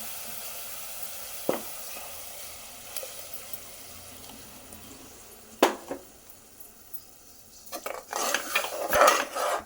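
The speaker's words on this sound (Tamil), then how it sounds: "நம்ம அரைச்சி வச்சுருக்கிற மசாலா வந்து இதில் அப்படியே ஊற்றிடலாம்" Ground masala paste poured into hot oil in a pan while cooking a Sunday special dish, with a few sharp utensil knocks, scraping stirs, and a rising sizzle and clatter toward the end.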